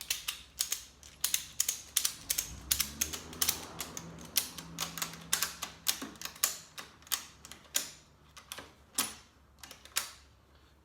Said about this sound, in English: then ratchet it